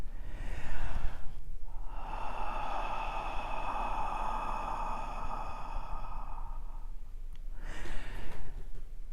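A slow, easy breath close by, a soft inhale followed by a long, smooth exhalation that fades out, with no talking.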